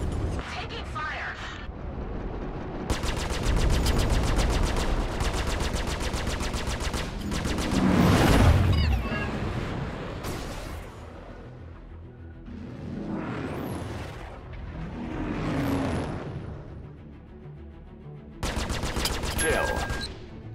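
Rapid bursts of automatic gunfire and heavy blasts from Star Citizen space combat against a Vanduul swarm, loud and repeated in clusters across the clip, with a voice speaking at times between volleys.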